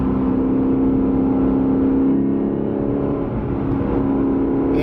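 2020 Lexus RC F Track Edition cruising carefully on winding roads, a steady loud cabin drone of engine and road noise with a constant low hum and no clear revving changes.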